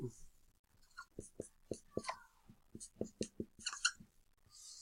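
Marker or chalk writing on a board during a math lesson, a string of short quick taps and strokes with faint squeaks, close and fairly quiet, with soft murmured speech.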